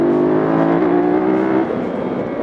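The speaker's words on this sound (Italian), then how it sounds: "Il motore spinge veramente come un dannato" A Ducati 916 sport motorcycle engine pulls hard out of a corner, a loud, close, rising drone that climbs in pitch and then drops away as the throttle eases.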